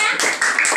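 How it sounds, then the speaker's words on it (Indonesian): A third-grade class at school claps for a classmate, with loud, close, rhythmic hand claps coming in three or four quick bursts over less than a second. "boleh tepuk tangan untuk temannya?"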